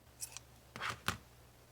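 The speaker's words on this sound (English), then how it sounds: "then you're going to want to cut and tie off your yarn" Scissors cutting yarn after crocheting a simple beanie: three quick snips, the first faint and the last two sharper and closer together, alone with no talk.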